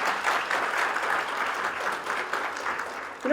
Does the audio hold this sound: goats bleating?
no